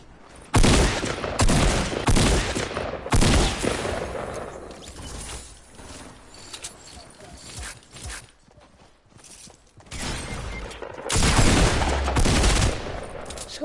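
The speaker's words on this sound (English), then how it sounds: "There's other people shooting." Heavy bursts of gunfire from other players in a video game, loud volleys that come and go in waves with a quieter lull in the middle, footstep-like clatter faintly underneath.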